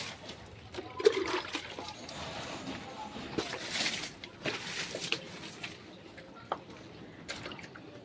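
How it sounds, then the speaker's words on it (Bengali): Water poured over a flowering plant: faint, close trickling and splashing in uneven bursts, with soft drips between them and no talk. "ফুল গাছ, যদি ফুল গাছে জল না দিলে হবে বলো?"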